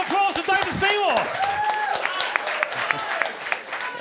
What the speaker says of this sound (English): Round of applause for David Seymour.